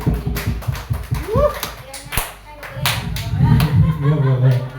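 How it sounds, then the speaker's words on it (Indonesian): An audience claps in scattered bursts during an indoor teacher training session, mixed with speech and light laughter. "Tepuk tangan untuk Bu Dewi."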